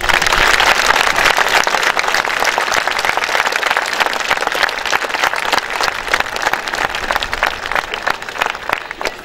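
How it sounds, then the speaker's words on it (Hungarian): Loud applause from a school audience at a year-end school ceremony, dense steady clapping that carries on for about nine seconds with no voices over it. "Most együtt megérdemelnek egy nagy tapsot."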